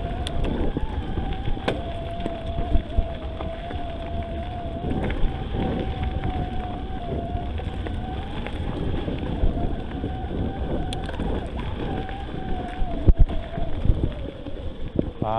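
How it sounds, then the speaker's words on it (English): Scott eSpark 720 electric mountain bike with a Shimano E8000 drive unit climbing a hill outdoors: a thin motor whine holds steady over heavy wind noise and tyre rumble, with occasional knocks from the trail. "Lots of torque from the E8000 drive unit there, no problems climbing the hill."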